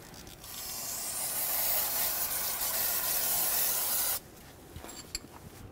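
Brake parts cleaner sprays from an aerosol can during brake bleeding on a 2007-2014 Chevrolet Silverado 2500 HD, giving one loud continuous hiss of about four seconds that cuts off abruptly, followed by a few faint clicks.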